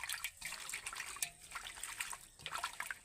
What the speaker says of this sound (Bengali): এবার পাতাগুলোকে আমি জল দিয়ে ভালো করে ধুয়ে নেব